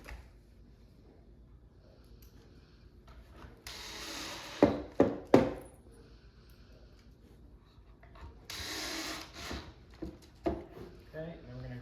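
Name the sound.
driving pocket screws into shoe bench wood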